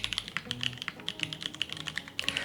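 Rapid, steady typing on a low-profile keyboard, each keystroke a crisp, close tap in a continuous stream with no talking.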